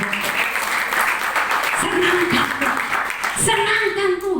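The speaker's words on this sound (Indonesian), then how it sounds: "Beri tepuk tangan untuk semua" Church congregation clapping, a dense patter of hands under sustained musical tones and some voices, moderately loud and continuous.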